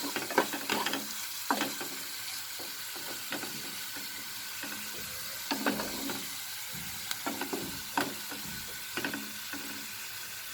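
Garlic and onion sauté in a pan for Indian beetroot chicken, a soft steady sizzle broken by repeated scraping strokes of a spatula stirring at close range.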